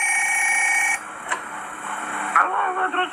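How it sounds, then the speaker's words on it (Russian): A telephone rings inside a video game, a loud electronic ringing tone that cuts off about a second in, followed by fainter clicks and game sounds. "Там звонит телефон."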